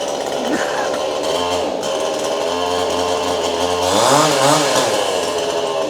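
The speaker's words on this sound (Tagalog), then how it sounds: "Basta na iba na po ang tunog ng chainsaw, baba nyo na po yung choke." A chainsaw engine runs continuously at close range with a buzzing two-stroke drone, revving up and shifting pitch partway through.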